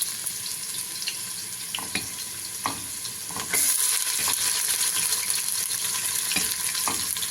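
Onions sizzle and fry in a pan for kabsa, a steady hiss that grows louder midway, with occasional stirring clinks.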